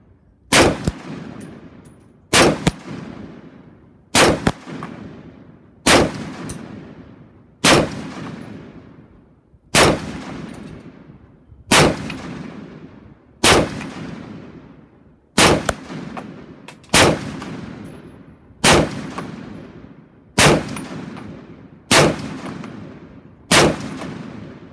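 A Diamondback DB10 CKMB rifle fires about a dozen single shots at a shooting range, each loud sharp crack followed by a short decay, evenly spaced roughly two seconds apart.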